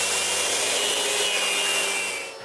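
A drum sander fitted with 60 grit sandpaper grinds steadily across wood, a close, loud continuous abrasive roar that holds even throughout and then tapers off at the very end.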